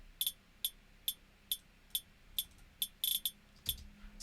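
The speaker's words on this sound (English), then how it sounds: "The simple electronic hi-hat just sounds like this." A lone, simple electronic hi-hat sample from a song ticks in a steady pattern of short bright hits with a quick double near the end, crisp and close, over a faint low background hum.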